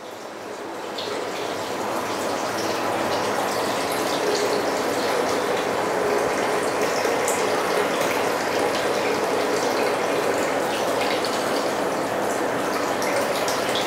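Water streaming steadily out through overflow box tubes on a wobbly table, a constant close trickling and splashing flow that swells slightly after the first seconds and continues evenly with no voices.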